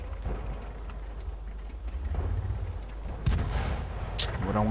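Tank cannon fire during a World of Tanks battle, with one sharp shot cracking over a constant low rumble of engines and battlefield noise.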